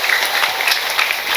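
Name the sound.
audience applause for the organizing committee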